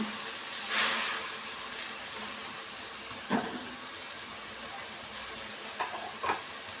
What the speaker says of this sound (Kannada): ಈ ಥರ ಎಲ್ಲ ಸೇರಿಸಿ ಮಿಕ್ಸ್ ಮಾಡಿ ಫ್ರೈ ಮಾಡ್ಕೊಂಬಿಡೋಣ.